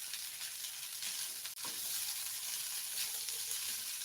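Nasi goreng kampung frying in a hot pan with oil, a steady close sizzle throughout and one brief scrape of stirring partway through, no talking.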